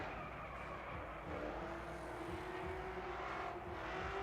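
Nissan S13 drift car, the Fuel Culture Kenda Tires entry, at a Formula Drift night round in Las Vegas, its engine droning at steady high revs with a rising tone throughout, with no talk.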